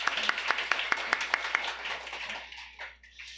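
A small church congregation claps in a brisk, regular rhythm that softens and trails off after a couple of seconds.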